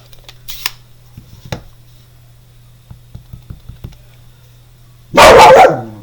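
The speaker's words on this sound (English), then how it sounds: "The dog is now excited." A dog gives a few scattered yips, then one loud, close bark, all over a steady low hum with no talking.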